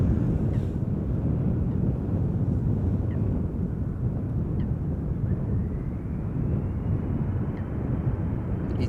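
An Embraer 175 jet, 13 years old, departs Schiphol Airport bound for Warsaw, giving a steady, loud broadband roar with wind buffeting the microphone throughout and a faint rising whine near the end.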